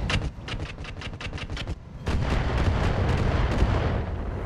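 Mech weapons firing in the Battletech video game with the Roguetech mod, a quick rattling string of shots followed by a heavier continuous barrage of booming impacts, loud and close, with no talk.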